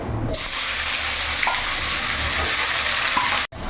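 Potatoes and onions frying together in oil with bay leaf and a little sugar, a steady close sizzle running throughout with a few faint clinks and a brief dropout near the end.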